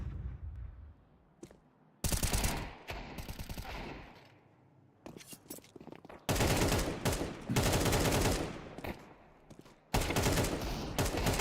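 Rapid bursts of automatic rifle fire from M4 and AK rifles in a competitive shooter video game match, loud and dense, separated by short quiet gaps.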